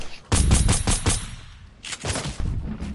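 Rapid bursts of video game gunfire crackle in a quick volley, then pause and resume with a second, slightly quieter string of shots.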